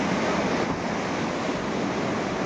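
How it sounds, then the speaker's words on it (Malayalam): Loud, continuous roar of rushing water from a nearby waterfall at Gavi, a dense steady wash of sound with no voices. "ഇതാണ്ട വെള്ളച്ചാട്ടം ഒഴുകി ഇത് അപ്പുറത്തൂടെ ഇങ്ങനെ പോകും"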